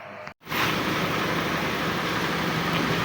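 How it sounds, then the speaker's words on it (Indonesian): Engine of a Nissan X-Trail T31 running steadily while warming up, a constant close broadband hum and hiss that starts right after a brief cut-out and holds without change. "kita coba panasin dulu ini mesinnya, nanti setelah itu kita tes untuk masuk D dan juga masuk R ya"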